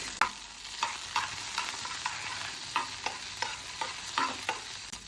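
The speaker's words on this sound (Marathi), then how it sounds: "त्यासाठी मी पॅन मध्ये एक चमचा तेल घेतला आहे. 4 ते 5 लसणाच्या पाकळ्या टाकायच्या आहे आपल्याला." Garlic cloves, a green chili and curry leaves fry in a spoonful of oil in a pan for spicy potato 65, a continuous crackling sizzle broken by regular sharp stirring clicks, close by with no speech.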